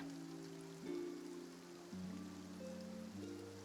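Rain falls in the Fontaine region of a video game as a faint, steady hiss, with low sustained musical tones playing beneath it.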